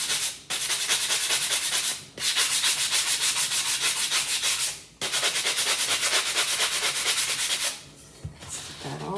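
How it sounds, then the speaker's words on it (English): Sanding off the whitewash coating, heard as long, loud, steady rubbing passes with brief pauses between them, close up and without speech. "what this does, it sands off the whitewash they apply to it."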